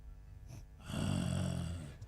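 A voice imitates snoring with one drawn-out, rasping inhaled snore, preceded by a short breathy snort and ending in a faint exhale, close and fairly quiet.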